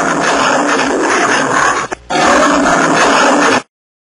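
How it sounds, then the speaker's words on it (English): A lion's loud, broad, sustained roar fills most of the clip, cut by a brief gap before a second long roar, then silence. "Lion."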